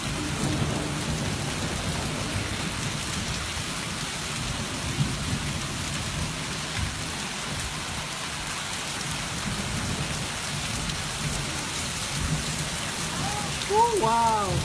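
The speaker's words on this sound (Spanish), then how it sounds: "Chulo, chulo, chulo, chulo que está lloviendo" Heavy rain falls hard and steadily in Michoacán, Mexico, a loud continuous roar of drops on surfaces with a low rumble underneath, and a voice briefly exclaims near the end.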